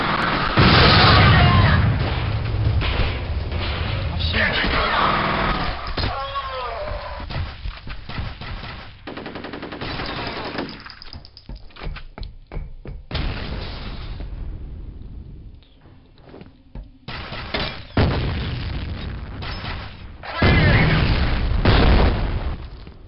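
Grenade blasts in the shooter game F.E.A.R., loud booming bursts recurring across the stretch, mixed with gunfire-like pops and game noise, with people talking over parts of it.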